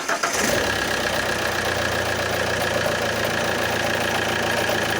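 Car engine turned over and started during a vacuum supply test, catching within the first half second and then settling into a steady, close, even running drone with a faint high whine above it.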